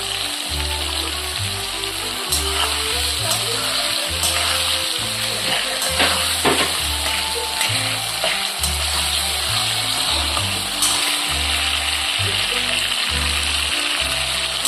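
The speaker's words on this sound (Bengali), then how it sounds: "আমি আলু আর টমেটোটা এবার হালকা করে ভেজে নেব।" Potatoes and tomatoes frying in a pan, a loud, continuous sizzle and crackle that stays steady throughout, close up with no one talking.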